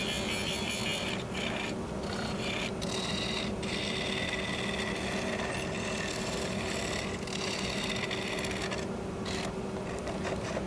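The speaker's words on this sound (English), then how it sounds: "A nice sharp bowl gouge will take the chips off of these long ribbons." A sharp bowl gouge cutting long ribbons from a freshly cut green walnut live-edge bowl spinning on a wood lathe, a continuous loud rasping scrape over the steady motor hum, with no talk.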